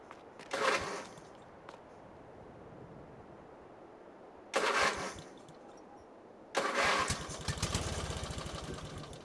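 A tractor engine in Farming Simulator 22 cranking and failing to catch, with two short sputtering bursts followed by a longer rough run that fades, heard at moderate distance amid quiet farm ambience.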